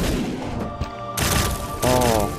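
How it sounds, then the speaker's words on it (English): Explosions in the video game The Binding of Isaac: booming blasts and crashing bursts layered over continuous game music and effects, with a sharp loud hit partway through and another burst near the end. "Explosion."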